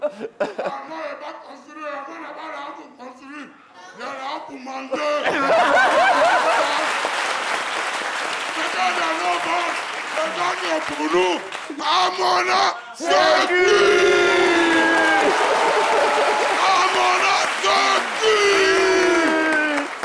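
Studio audience on a French television talk show bursts into loud, sustained applause with cheering and whoops, building after a quieter opening with speech and continuing steadily to the end.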